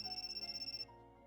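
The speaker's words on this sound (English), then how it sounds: "Feel my phone begin to vibrate inside my pants pocket." A mobile phone ringing from inside a pants pocket: a faint, rapidly pulsing electronic ringtone that repeats steadily and then cuts off abruptly, leaving a low lingering hum.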